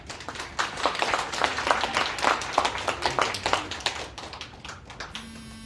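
Audience applause at a Korean policy forum on nuclear power phase-out, welcoming a presenter: dense, steady clapping from a crowd filling the room for about five seconds, tapering at the end with no voices.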